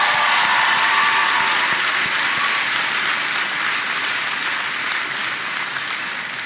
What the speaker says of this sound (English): Can everybody please give Jody a big round of applause for the introduction?